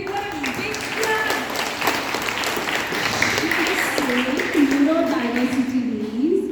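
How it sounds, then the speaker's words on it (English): An audience of children gives a big round of applause for a girl during a school talk, steady clapping running for several seconds with voices and chatter mixed in. "Can we give her a big clap?"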